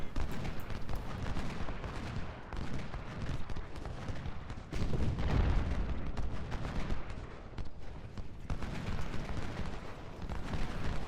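Cannon and musket fire in the Civil War video game Ultimate General: Civil War, a continuous dense rumble of battle with repeated booms and crackling volleys throughout, with no talk.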